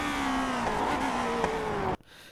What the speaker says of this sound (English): So then I brake hard and actually go down to first gear.